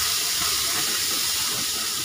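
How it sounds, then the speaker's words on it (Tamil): Hot mustard-seed tempering poured into ground mint chutney gives a steady, close, loud hiss and sizzle that fills the whole short moment without a break. "இப்போ நம்ம அரைச்சி வச்ச புதினா துவையில் ஊற்றிடலாம்."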